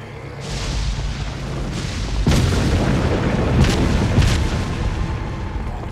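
Cannon fire aimed at doors in the video game Resident Evil 4, a series of heavy booming blasts with deep low rumble, the loudest hitting near the middle, each followed by a rolling decay.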